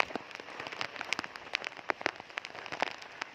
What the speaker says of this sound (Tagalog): Ang lakas po talaga ng hangin at tsaka ulan.